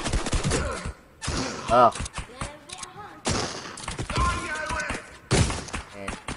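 Gunfire rattles in a Fortnite solo match as several loud bursts of shots and thuds come in quick clusters, with a player's voice breaking in between.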